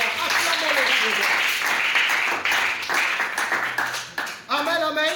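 A church congregation applauds and cheers loudly and continuously, with voices calling out over the clapping, which dips briefly near the end before a preacher's voice rises again.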